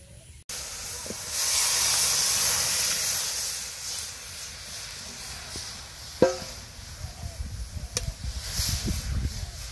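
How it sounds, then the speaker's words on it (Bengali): Lentils tipped into hot oil already frying onion and garlic, a bright steady sizzle and hiss that starts abruptly, holds loudly for a few seconds, then settles into crackling with a few sharp pops and clatters. "এখন তেলে ডাল দিয়ে দিই।"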